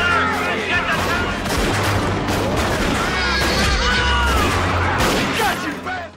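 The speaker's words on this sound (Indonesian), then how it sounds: "Terjadi tembak-menembak." A loud, chaotic gunfight erupts around a bank robbery by a gang on horseback, with dense overlapping gunshots, rumbling booms and clatter filling the scene without pause, voices shouting beneath the barrage.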